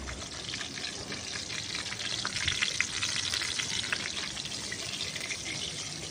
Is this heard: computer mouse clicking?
no